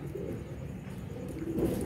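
Pigeons coo softly while pecking at bread, low rolling calls repeating in an outdoor spot, faint and close with light background noise.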